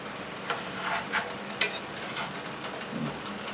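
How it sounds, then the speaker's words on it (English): Onions stir-fry on the highest heat, a faint sizzle under irregular scraping and clicking as a utensil pushes them around the pan, with a few sharper knocks. "Put it on the highest heat. Stir fry until the onions are tender."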